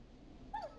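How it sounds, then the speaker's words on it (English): A neighbor's dog in the Killer Frequency game gives one short, faint whimpering whine near the end, heard at night across quiet low background noise. "Is that a neighbor's dog?"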